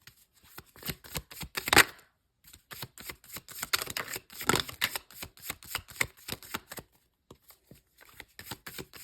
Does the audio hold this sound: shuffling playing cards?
yes